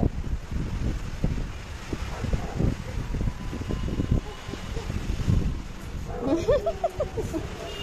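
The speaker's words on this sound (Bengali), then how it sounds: "হাওয়া দিচ্ছে।" Wind gusts outdoors during rain, rumbling and buffeting close against the microphone throughout, with a few faint voice sounds near the end.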